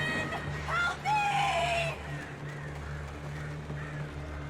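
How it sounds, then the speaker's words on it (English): Birds attacking in the game Alan Wake Remastered give loud, harsh squawking cries in quick bursts over the first two seconds, followed by fainter calls over a low droning ambience. "I don't remember the birds attacking."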